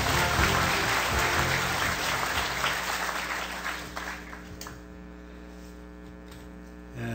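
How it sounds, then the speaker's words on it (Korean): Audience applause welcoming a speaker to the podium at a Korean book launch ceremony, a broad steady clatter that fades after about four seconds, leaving a low electrical hum. "여러분 박수로 맞아주시면 감사하겠습니다."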